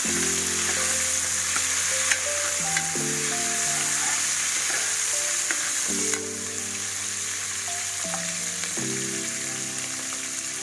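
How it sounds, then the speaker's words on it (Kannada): Onion and fenugreek leaves roasting in a hot pan give a continuous loud hiss and sizzle, close up, with a few stirring clinks and a brief louder burst midway; no voices. "ಅದಕ್ಕೊಂಚೂರು ಈರುಳ್ಳಿ ಹಾಕಿದ್ದೀನಿ, ಮತ್ತು ಮೆಂತ್ಯ ಸೊಪ್ಪು ಸ್ವಲ್ಪ. ಮೆಂತ್ಯ ಸೊಪ್ಪು ಚೆನ್ನಾಗಾದ್ರೆ ರೋಸ್ಟ್ ಆಗಬೇಕು."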